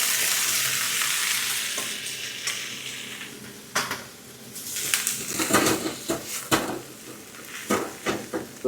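Vegetables stir-frying in a pan for crispy fried noodles sizzle loudly and close, broken by repeated clacks and scrapes of a utensil stirring against the pan.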